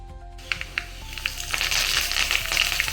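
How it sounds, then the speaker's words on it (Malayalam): Mustard seeds spluttering and popping in hot oil while tempering a bitter gourd curry with ground coconut; a quiet start gives way to scattered sharp crackles, then a dense, steady sizzle with frequent pops close by. "പച്ചക്കറിയല്ലേ, കടുക് പൊട്ടിക്കാം."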